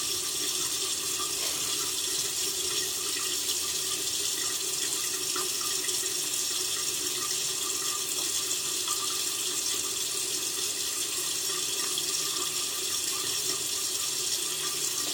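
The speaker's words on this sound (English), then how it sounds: "Go ahead and rinse that off." Tap water runs steadily into a sink while a face is rinsed during a morning skincare routine, a constant close rush of splashing water with no talk over it.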